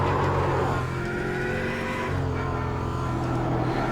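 Race car spinning out during an iRacing GT3 race at Mosport, steady loud engine drone with tire scrub and a brief dip as the car loses grip, continuing throughout.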